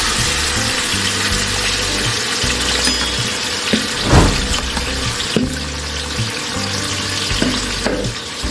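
Coarsely chopped onions and tomatoes, two kilos each, hit hot oil in a large pot for a big-batch chicken degi biryani, a loud steady sizzle and frying hiss filling the space with a few louder splashes.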